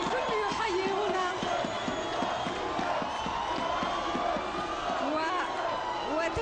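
A dense crowd of football fans roars and chants for Algeria's national team around the team bus, a loud continuous wall of voices with rhythmic shouted beats.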